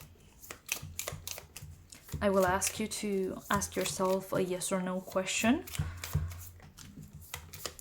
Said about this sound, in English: Lastly, I will shuffle some cards